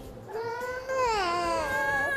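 A young child cries in a rising, wavering wail that grows louder after the first second and holds strong to the end, close by with no talk over it.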